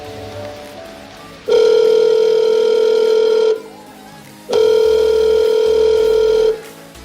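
A phone call rings out through the handset as a steady ringback tone: two long, loud electronic rings of about two seconds each, separated by a pause, with no one speaking.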